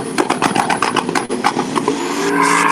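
Turbo John's Nissan Datsun drag car at a no-prep street outlaw race at GALOT Motorsports Park gives a loud, close, rapid pulsing engine rattle that settles into a steadier roar.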